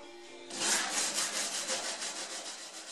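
Steady back-and-forth hand sanding of car body filler with sandpaper, a rhythmic scratchy rasp repeating about every quarter second, close and fairly loud after a brief quiet start.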